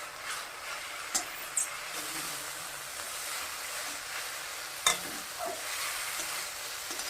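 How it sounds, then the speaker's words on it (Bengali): Greens fry in a pan with sugar and green chilies, a soft, steady hiss under a few light scrapes and clicks of stirring, close but fairly quiet. "শাকটা এবার ভালো করে বাজা বাজা করে নিই"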